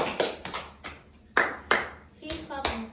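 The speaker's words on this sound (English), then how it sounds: "if you're happy and you know it, clap your hands." A few sharp, separate hand claps from children in a third-grade class play to a sung children's song, spaced irregularly with a voice heard between them.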